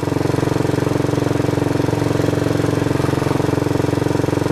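A Royal Enfield motorcycle engine runs steadily close by, its single-cylinder thump pulsing in an even, rapid beat at a fairly constant speed with no strong rise in revs.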